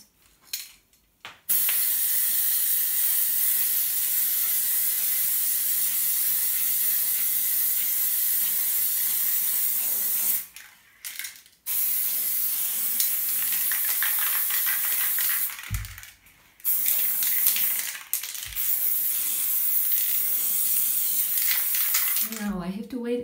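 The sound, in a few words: white acrylic spray paint sprayed onto canvas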